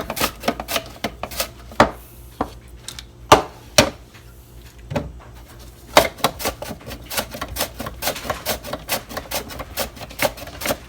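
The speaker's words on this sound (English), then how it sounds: "I come over here to my mandolin and just slice it" Purple sweet potato sliced on a mandoline at its thinnest setting: quick, crisp, repeated slicing clacks in an uneven rhythm, close and loud, with a short pause midway before the strokes resume faster.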